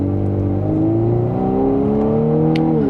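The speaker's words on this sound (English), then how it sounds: "Not quite pedal to the floor, but we can get up and move." Turbocharged engine of a 2026 Volkswagen Atlas SE in manual mode, second gear, pulls strongly from inside the cabin, a loud steady drone rising in pitch through the run with no talk over it.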